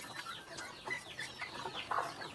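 Native kampung chickens cluck and chatter softly in a series of short, irregular calls, with no voices present.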